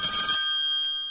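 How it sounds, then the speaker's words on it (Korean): A telephone rings with a steady electronic tone, clear and close, sounding alone without any talk. "전화가 오네요."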